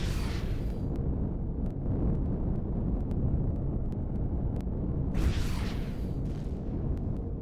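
Plasma cannons on a spacecraft in Empyrion Galactic Survival fire and strike. Two hissing, roaring bursts rise over a constant deep engine drone, with faint scattered clicks between them.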